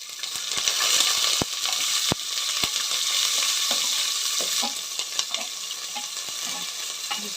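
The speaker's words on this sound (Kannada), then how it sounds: "ಇವಾಗ ಈರುಳ್ಳಿ ಹಾಕಿದ್ದೀನಿ. ಈರುಳ್ಳಿ ಎಲ್ಲ ಚೆನ್ನಾಗಿ ಫ್ರೈ ಆಗಬೇಕು ಸ್ನೇಹಿತರೆ" Sliced onions frying in hot oil, a dense continuous sizzle and crackle up close with occasional sharp clicks of a utensil against the pan, heard alone without talk.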